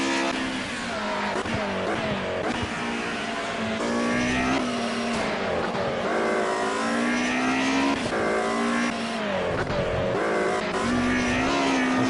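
A race car engine at Le Mans in the Project CARS video game drones loudly and continuously, its pitch rising and falling through revs and gear changes without any break.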